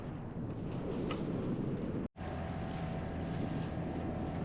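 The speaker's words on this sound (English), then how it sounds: "Pretty windy here" Strong wind buffets the microphone in a constant roar while tendering to shore near a Caribbean island, broken once by a brief dropout, with a low rumble that might be a boat.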